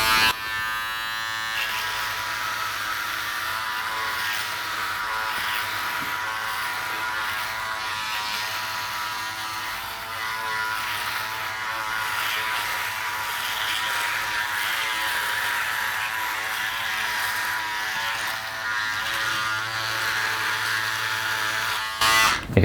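A Remington F4 rotary electric shaver cuts facial hair with a steady, close buzzing whir that runs unbroken for the whole stretch, with a faint crackle of hair being caught and clipped and no talking.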